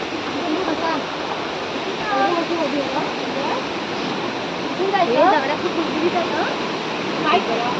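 A loud, constant roar of falling water from the Ranpat waterfall in Konkan dominates throughout, with people talking intermittently over it.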